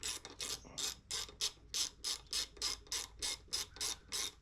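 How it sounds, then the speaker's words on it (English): A ratchet wrench with a 10mm socket loosens a bolt, giving a brisk series of about a dozen sharp, evenly spaced clicking bursts, close and fairly quiet, with no talking. "I got the old 10mm socket up in here."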